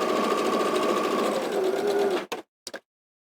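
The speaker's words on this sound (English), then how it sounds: "And carry on sewing." A sewing machine stitches a cushion cover in one steady, close run of about two seconds, then stops; two short bursts of stitching follow, each ending in silence.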